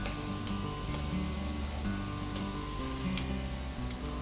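Prawns frying in a pan with Worcestershire sauce give a steady, even sizzle at a moderate level, with faint scrapes now and then and no talking.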